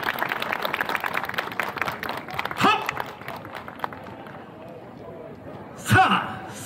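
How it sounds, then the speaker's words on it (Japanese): Audience clapping along for a 27-member dance troupe at an outdoor early-summer festival, rhythmic handclaps in the first half fading to crowd murmur, with a loud thump near the end. "皆様どうか手拍子、足拍子、心拍子 よろしくお願いします。"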